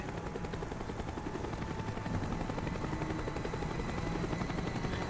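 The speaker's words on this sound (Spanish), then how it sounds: "El helicóptero está dando la vuelta." A helicopter circles overhead in Call of Duty Black Ops, its steady rotor roar filling the scene at a constant loud level amid dense battlefield noise, with no talk.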